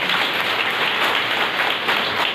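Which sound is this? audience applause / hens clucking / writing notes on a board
audience applause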